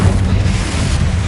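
A Confringo explosion spell in Hogwarts Legacy goes off as a loud, deep boom with a rolling low rumble that fills the short moment, heard alone without voices.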